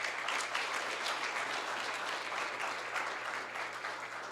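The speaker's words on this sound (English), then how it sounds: "let's give a round of applause for all of our speaker one more time" An audience after a panel discussion gives the speakers a full, even round of clapping that holds steady for several seconds, dense and fairly loud with no talk over it.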